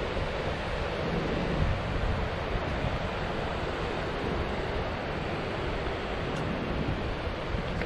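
The Shivanasamudra waterfall in Karnataka sends out a constant broadband roar of rushing water, steady and loud throughout with no voices over it.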